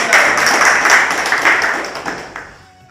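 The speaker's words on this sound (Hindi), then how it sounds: "जोरदार तालियों से स्वागत करें" Loud applause from a crowd greeting the town president at a welcome ceremony for a new district panchayat CEO in Panna, steady dense clapping for nearly three seconds before tapering off.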